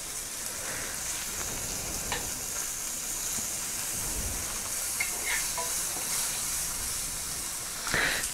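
Puffed rice being stir-fried in a pan with chillies, a continuous dry sizzling hiss with scraping stirs and occasional soft clicks, fairly close and without speech.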